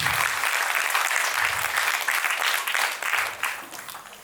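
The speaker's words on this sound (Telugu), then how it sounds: "big claps" An audience at an awards ceremony claps steadily and loudly throughout, a dense wash of hand claps with a brief low murmur of voices underneath.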